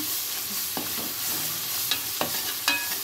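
Onions and curry leaves frying in a pan for a tuna fish gravy give a soft continuous sizzle. A few sharp stirring clicks and scrapes stand out, close by.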